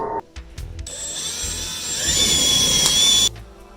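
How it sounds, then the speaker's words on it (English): A power drill whines steadily for a few seconds, its pitch holding high as it bores pilot holes for a TV wall bracket, then stops abruptly. "we pre-drilled, or created our pilot holes"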